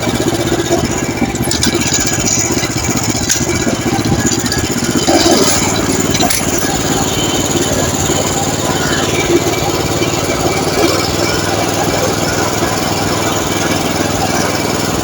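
A hybrid walk-behind tractor runs its engine continuously while digging potatoes in a field, a loud, close, steady drone throughout.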